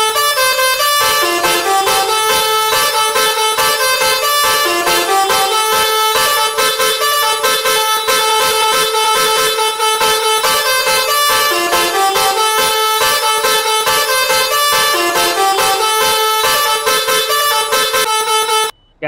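A custom horn fitted to a luxury bus in Euro Truck Simulator 2 blares loud and nearly continuous, its layered musical tones shifting in pitch throughout, with no talk over it.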